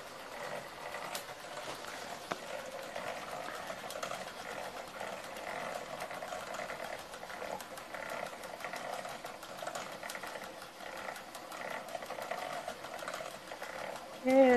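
A Newman bike motor drives a belt in a steady, continuous mechanical whir that holds an even pitch and moderate level throughout, ending with a brief louder bump.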